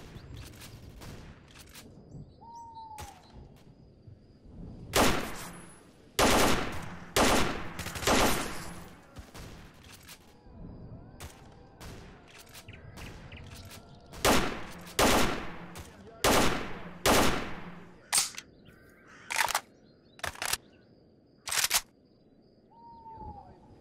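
Gunfire in the shooter game STALKER Anomaly: scattered single shots and short bursts crack sharply over a quiet ambient background, some rounds clustered rapidly, loud and close.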